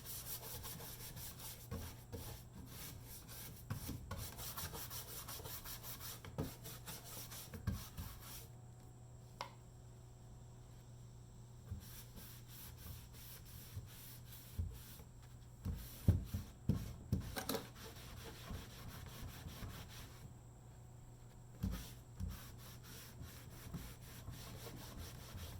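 Someone rubs wax off a decoupage surface by hand, producing faint, repeated scraping and rubbing strokes in an irregular rhythm, close but quiet, with no voices.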